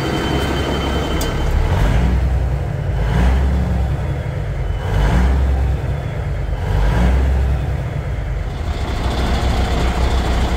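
A Big Cam Cummins diesel idles in a Volvo VNL780 truck, giving a loud, steady low rumble with gentle periodic swells and a continuous throaty drone filling the cab.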